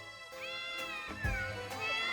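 Several cats meow at a cat sanctuary, with a few drawn-out, wavering calls in close succession against a steady room background.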